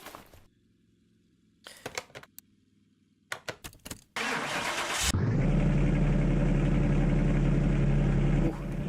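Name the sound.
Ferrari 250 GTO engine starting in Car Mechanic Simulator video game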